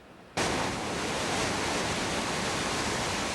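Roaring Creek in flood after breaking its banks, a sudden onset of loud, dense, steady rushing water that fills the whole clip with broadband roar and no voices.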